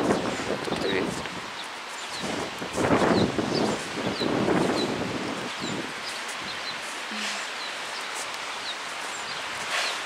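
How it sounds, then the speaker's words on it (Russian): Gusts of wind buffet the microphone and rustle nearby leaves, rising and falling in waves, with occasional bird chirps in the background. "А, ветер. Тут и ветер."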